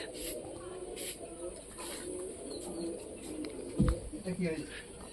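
Pigeons coo softly in a home loft, a steady low murmur under background chatter, with a brief louder thump near the end.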